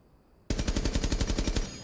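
Rapid automatic gunfire from a weapon fitted with a muzzle brake in the video game Rainbow Six Siege, a loud steady burst of about a dozen evenly spaced shots that starts abruptly after a brief quiet moment.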